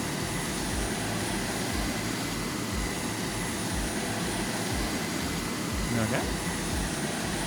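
A plane's engine in a video game about taking over an ocean planet with a giant aircraft carrier, a steady broadband drone that holds throughout while a voice speaks briefly over it.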